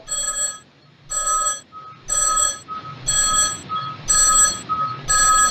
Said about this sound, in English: Phone is getting louder